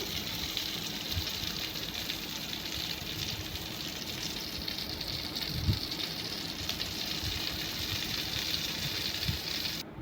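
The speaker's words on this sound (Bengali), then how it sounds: "বেগুনটাকে একটু উল্টিয়ে দিলাম এক পাশ হয়ে গেছে আর এক পাশ উল্টিয়ে দিলাম" Eggplant slices fry in oil in a pan, giving a steady, dense sizzle that holds evenly for the whole stretch with no voices.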